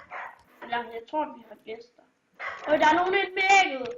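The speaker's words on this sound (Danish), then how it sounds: "Og hvis I kan høre noget, så er det min hund i baggrunden" A dog barks in the background in several short bursts while a person talks in Danish over it at close range.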